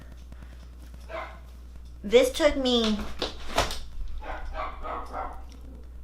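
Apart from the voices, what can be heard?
dogs barking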